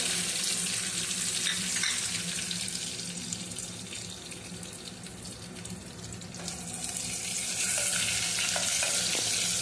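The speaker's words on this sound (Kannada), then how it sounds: "ಜೀರಿಗೆ ಹಾಕೊಳ್ಳೋಣ. ಹಾಗೆ ಕರಿಬೇವಿನ ಸೊಪ್ಪು ಕೂಡ ಹಾಕ್ತಾ ಇದ್ದೀನಿ." Cumin seeds and curry leaves sizzle in hot oil for a tempering, a steady loud crackling fry with bursts of spattering, close up and without talk.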